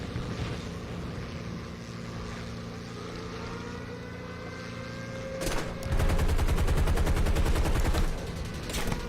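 Wing machine guns on a P-40E Kittyhawk fire in War Thunder: a sustained rapid rattling burst cuts loudly over the steady drone of the aircraft engine and continues to the end.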